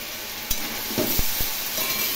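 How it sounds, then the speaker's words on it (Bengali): Mixed vegetables frying over a low flame with turmeric, cumin and coriander powder and grated ginger, stirred in a pan: a soft steady sizzle broken by a few sharp spoon scrapes and clacks against the pan. "লো ফ্লেমে বারবার করে নেড়ে নেড়ে একটু ভাজা ভাজা করে নেব মশলা এবং সবজিগুলো।"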